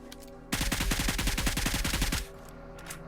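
A rapid burst of automatic gunfire from squads fighting in a battle royale video game rattles for about two seconds, with fainter shots before and after.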